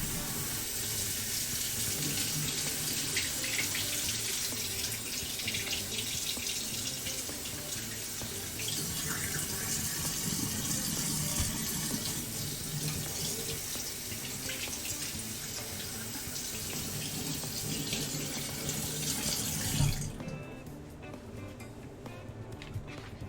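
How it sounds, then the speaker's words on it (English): Tap water runs steadily into a kitchen sink while a pot is rinsed out, a continuous close splashing rush that stops abruptly near the end, with no speech. "Definitely needs a rinse out too."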